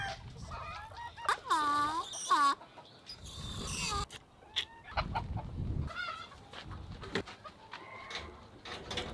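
Clucks and short calls from a Sumatra chicken, some with a rising harmonic tone, come in scattered bursts close by, with soft speech-like noises and rustling between them.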